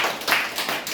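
An audience at a lecture claps, a brief dense burst of many hands applauding together, close and steady for about a second.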